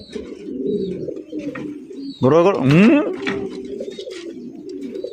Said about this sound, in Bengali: অ্যান্ডালুজিয়ান শোকিং কবুতর দেখতেই পাচ্ছেন